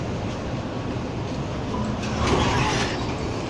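Melbourne tram, Z3, B or A class, rumbling steadily along city streets near Bourke Street Mall, a continuous close, loud rolling drone that swells slightly toward the end.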